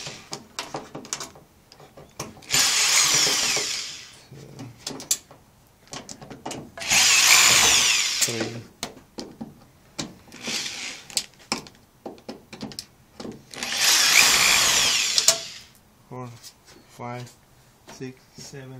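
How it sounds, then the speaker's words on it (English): Power screwdriver backing screws out of the power supply board of a Samsung 46-inch LCD TV, model LN46C650L1F: three loud whirring bursts spaced several seconds apart, with small clicks and handling noises in between. "replace the power supply on this TV. What I have to do is take it out the screwdriver."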